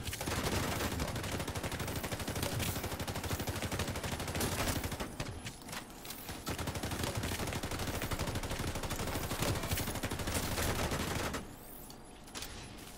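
Dense automatic gunfire in The Division 2, sustained rapid bursts of shots with a brief pause midway and another near the end, loud and continuous without speech.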